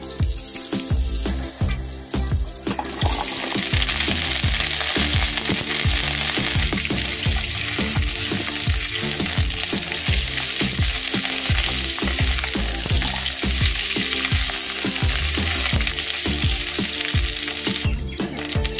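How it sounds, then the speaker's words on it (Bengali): Pointed gourd (potol) pieces fry in hot oil in a wok with a loud, continuous sizzle, with stirring scrapes and clatters running throughout. "এখানে কড়াইটা গরম হয়ে গেছে, এবার পটলগুলো ভেজে নেব"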